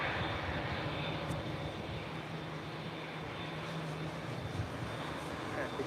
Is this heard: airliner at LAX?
yes